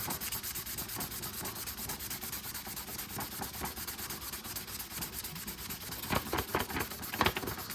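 Close, steady scratchy rubbing of 1200-grit sandpaper worked by hand over a car horn button, continuing evenly with a few sharper strokes near the end and no voices.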